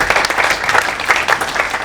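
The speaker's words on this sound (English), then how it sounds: "Please, an applause to them." Audience applause at the 2019 Balkan New Film Festival premiere in Stockholm, a dense, steady burst of many hands clapping close and loud throughout, with no speech over it.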